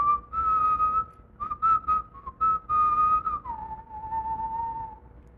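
A person whistles the Lord of the Rings theme alone, clear sustained notes with a few short phrases and pauses, close and moderately loud.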